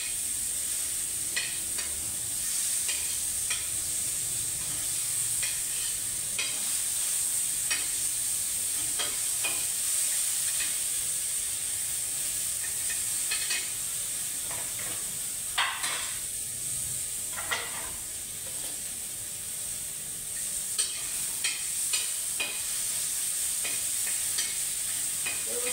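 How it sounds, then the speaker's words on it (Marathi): Onion and tomato roasting in a pan for a dhaba-style whole masoor dal gravy, a soft steady sizzle and hiss broken by repeated scraping strokes of a spoon against the pan, close up with no voices. "टोमॅटो आणि कांदा व्यवस्थित भाजून घ्यायचा"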